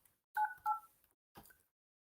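Snom SIP desk phone dialing a call, two clear DTMF keypad tones in quick succession followed by a fainter third tone, crisp and close in a quiet room.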